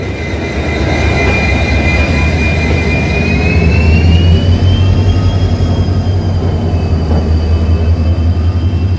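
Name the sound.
train engine pushing the train from the back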